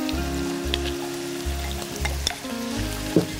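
Tomatoes go into a pan of vegetables already frying, giving a steady close sizzle with rhythmic low thumps and scraping of stirring throughout and a brief clatter near the end.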